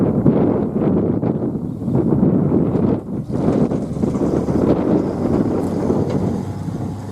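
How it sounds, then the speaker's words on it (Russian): Strong wind buffets the microphone at a lake while fishing, a steady low roar gusting slightly throughout with no voices. "Вот такой ветер."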